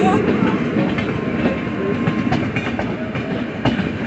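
Guwahati-Okha Express with LHB coaches hauled by a WAG-9 locomotive passing Baksa railway station, a steady loud rumble with rhythmic clickety-clack of wheels over rail joints throughout.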